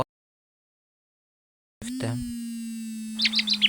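After a moment of silence, a steady electronic tone starts, then a short run of synthetic bird chirps plays from a faulty find-phone app, loud and close.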